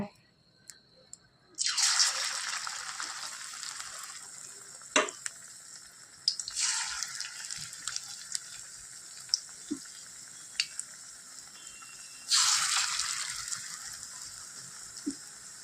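Puti fish and onion fritters frying in hot oil, a steady sizzle that flares loudly at intervals as fresh batches go into the pan, with occasional clicks and taps of a utensil against the pan.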